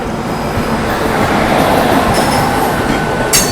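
Loud, close rush of the Howrah–SMVT AC Express going by, carriages roaring steadily with a faint metallic wheel squeal and a brief sharp clatter near the end.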